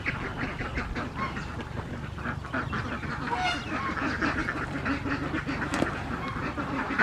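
A mother duck quacks steadily while being fed grain, her calls mixed with honks from other fowl in a continuous, busy barnyard chorus.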